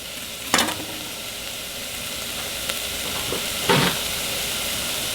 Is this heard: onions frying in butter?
yes